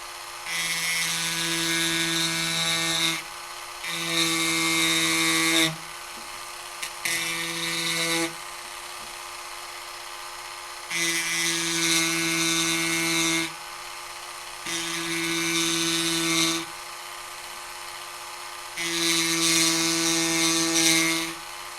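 A grinder works on the bolster of a Case 3347 three-spring stockman knife, giving a steady high whine in repeated bursts of about two to three seconds with short gaps between passes, close up and with no talking.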